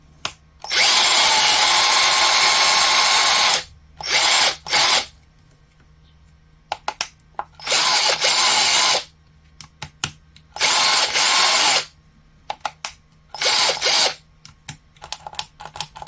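A Parkside 12V cordless angle drill on a 2 Ah battery runs in repeated bursts of high whirring, some long and some short, separated by quiet pauses and small clicks.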